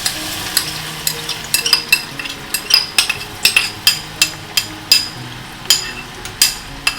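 Garlic frying in hot oil on a switched-off gas stove while being stirred, a steady close sizzle broken by a regular series of sharp scraping and clinking strokes about twice a second.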